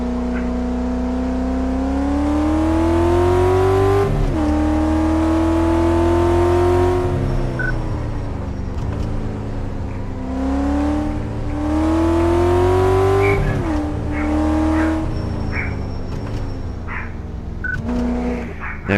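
Engine of a car on a test drive in the video game Car Mechanic Simulator 2014, droning steadily with pitch rising and falling as it accelerates and shifts, loud and continuous with no talk.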